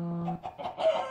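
A chicken in the video game Minecraft, Technic modpack, clucks a few times in quick succession, close and clear over a low steady tone, with no talking.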